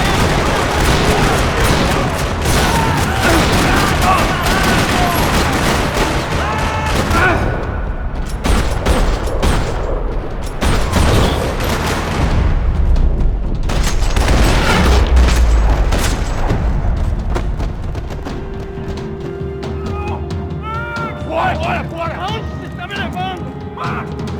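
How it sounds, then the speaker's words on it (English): Loud bursts of Max Payne 3 gunfire in a parking lot, booms and rattling shots crash over one another almost nonstop, with a voice talking beneath the chaos. "Another parking lot rattling with gunfire."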